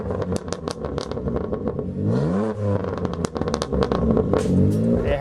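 BMW M2 Competition engine with a Turner Motorsport carbon intake and a single 3.5-inch mid pipe into a single muffler, close and loud as it revs with rising and falling induction and exhaust growl and crackles, with no talk.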